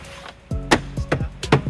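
Fasteners are tapped into holes in the body of a 2009 Toyota RAV4: several short, sharp knocks in an uneven rhythm, close and fairly quiet, with a faint background hum.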